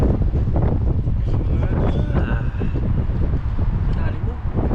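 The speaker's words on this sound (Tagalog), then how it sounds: "Malakas po yung hangin." Strong wind buffets the microphone outdoors in a continuous roar, with people talking and eating nearby over it.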